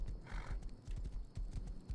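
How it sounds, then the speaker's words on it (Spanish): Video game horse hooves clip-clopping in a quick, uneven rhythm with a brief whinny early on, set against a steady low background rumble. "El caballo puede nadar."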